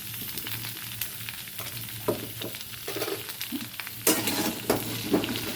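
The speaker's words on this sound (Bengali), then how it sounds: "পটলটা একটু ভেজে নেবো" Pointed gourd (potol) slices fry in a pan with salt, giving a continuous close sizzle broken by several sharp scraping stirs and clinks of a spatula.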